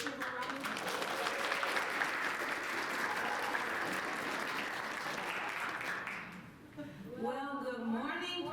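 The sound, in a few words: audience applause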